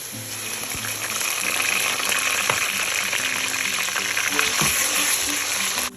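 Onions frying in a pan with ginger garlic paste and cumin seeds for a dhaba-style chana dal, a loud, steady sizzle close by that runs through the clip with a few small clinks.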